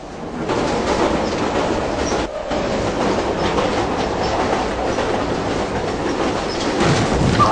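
A train in the video game Silent Hill 3 rolls along continuously with a loud rumbling clatter of wheels on rails, a brief dip near the middle, then steady rhythmic clacking to the end, with no talk.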